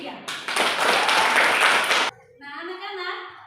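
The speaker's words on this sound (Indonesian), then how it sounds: "Kita beri tepuk tangan untuk kelompok 3." Classroom applause for a student group that has just finished its presentation, a dense burst of clapping lasting about two seconds that stops abruptly, followed by a teacher beginning to speak.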